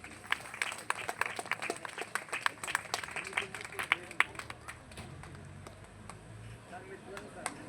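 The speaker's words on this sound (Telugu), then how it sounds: "చప్పట్లు కొట్టండి అందరూ" Wedding guests applaud in bursts of scattered hand claps, moderately close, with voices talking underneath.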